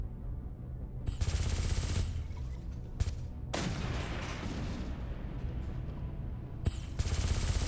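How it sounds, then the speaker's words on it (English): Spaceship weapons blast away in an Endless Space 2 space battle, with bursts of heavy gunfire and booming shots starting and cutting off in rapid volleys over a low rumbling background. "That puny little gun. Pew, pew, pew."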